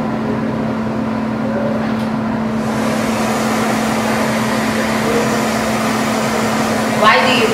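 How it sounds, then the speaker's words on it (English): A hair dryer blows lace wig glue dry to hold the edges back, a steady close whirring hum with a constant low drone that runs unbroken the whole time. "I only blow dry it just because it's going to hold all the edges back"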